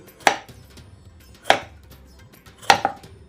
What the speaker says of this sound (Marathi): पाठीमागचा त्याचा देठ कट करून घ्यायचं बघा।